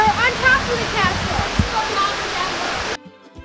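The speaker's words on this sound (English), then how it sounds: "Look at that little stream of water came down there. It's like a mini waterfall for Barney." A small stream of water falls like a mini waterfall, giving a steady close splashing rush under children's voices, then cuts off near the end.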